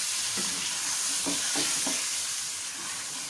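Chicken with yogurt and tomato puree is stirred in a hot pan, a soft continuous sizzle with a few scraping strokes of the spoon close by, and no one speaking.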